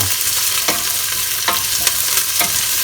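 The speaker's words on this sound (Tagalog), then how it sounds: "Igisa po natin mabuti ang sibuyas hanggang ito po ay mag-release ng liquid o maglabas ng likido." Onions sautéing in a pan for Filipino kare-kare make a loud, steady sizzle close up, broken by several sharp spatula scrapes.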